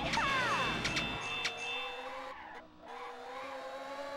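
Tires squeal as a car drifts in the racing game Outrun 2006 on PS2, with bright sweeping screeches and a few sharp hits over the steady hum of a game engine.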